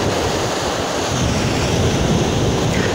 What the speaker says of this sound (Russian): каждому нравится такой шикарный прибой